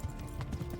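A horse gallops in a video game, its hooves drumming in a quick steady clip-clop beat close by, over a low rumbling game background.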